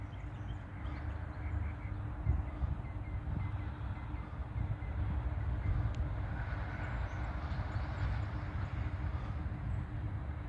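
A northbound coal train rolls downhill on dynamic brakes, giving a steady, loud low rumble and rail roar that holds without a break, with a faint higher hiss above it.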